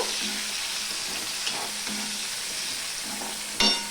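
Sliced onion frying in a pan for a pointed gourd curry gives a steady close sizzle with occasional stirring scrapes, ending in a sharper clatter near the end; no talking.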